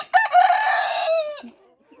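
A rooster on a backyard poultry farm crows once, loud and close, in a single drawn-out call that ends with a short, low cluck.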